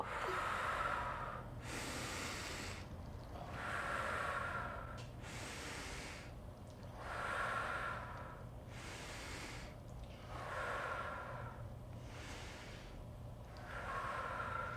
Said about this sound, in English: So we breathe in and out.